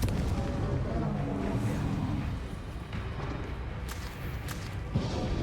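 Confringo fire spell blasts in the Hogwarts Legacy video game, a dense, continuous rumble of booming explosions and crackling impacts layered over game noise, with no clear gaps between hits.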